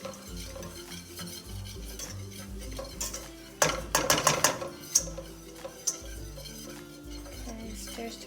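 Flour is stirred into melted butter in a pan to make a roux, a spoon scraping and clinking against the metal in a quick, busy rhythm over a faint sizzle.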